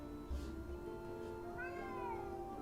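A cat meows in the adventure game Secret Files 3, a drawn-out rising and falling cry over a steady hum of game music, no talking.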